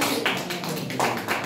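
Congregation clapping in praise at a church service, a quick run of sharp claps at moderate distance, fairly soft and steady over a brief stretch with no talk.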